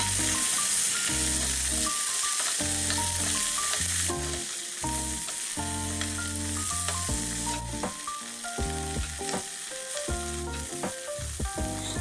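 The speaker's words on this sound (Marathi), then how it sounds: "आता यामध्ये फुलगोबी घालून घेऊया आणि मीडियम गॅस फ्लेमवर 2-3 मिनिट छान याला तेलामध्ये परतून घेऊ।" Cauliflower florets sizzle and fry in hot oil in a pan over a medium gas flame, giving a steady, close crackling hiss with occasional stirring scrapes and no voices.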